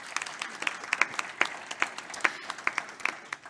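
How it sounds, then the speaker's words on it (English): Small audience applauding a speaker at a brunch talk session, with sparse, distinct claps in an uneven rhythm, moderately close and fairly light. "Huge round of applause for Lizzie."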